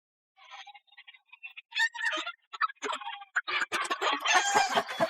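Faint, scattered clucks and short squawks come from a chicken as a king cobra closes in. They build to a busier, louder flurry of calls at the end.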